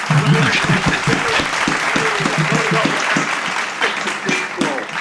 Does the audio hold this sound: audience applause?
yes